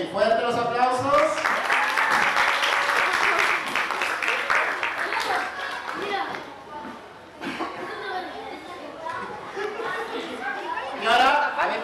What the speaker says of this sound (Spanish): Ok, fuerte los aplausos.